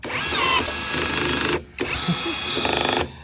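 A rivet tool sets a rivet in sheet metal during a Factory Five GTM kit car build, giving a loud, close mechanical whir with a brief pause before a second burst.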